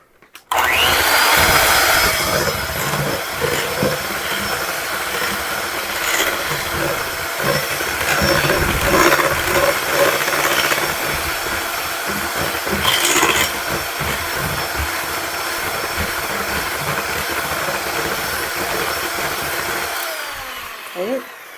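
Four eggs beaten together for a butter tart squares filling with a loud electric mixer, a steady whirring drone that runs almost the whole time with a few brief surges and stops near the end.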